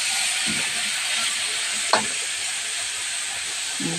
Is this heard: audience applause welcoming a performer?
no